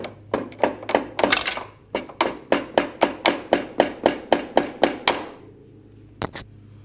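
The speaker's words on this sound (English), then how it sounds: "Might actually try a nail and puncturing this thing first." A roofing nail is hammered into the transmission seal of a Polaris Scrambler 500 2x4 ATV in a rapid run of about fifteen sharp, close metallic taps, then a pause and one last knock.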